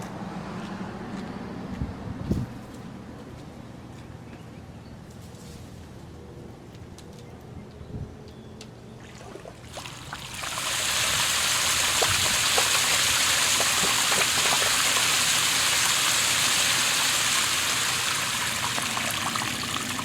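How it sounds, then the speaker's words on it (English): A pool pump catches prime while opening a pool for the season, with water suddenly rushing through the system in a loud, steady roar midway. Earlier comes faint trickling and scattered handling noises. "absolutely makes the sound of the pump catching prime that much nicer"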